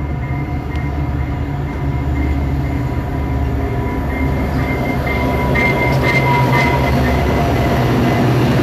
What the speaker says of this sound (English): Hark, ye train is coming.